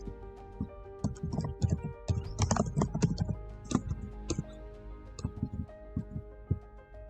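Keys clatter on a computer keyboard while C code is typed, giving uneven bursts of close, soft clicks with short pauses between them, set against a faint steady background hum.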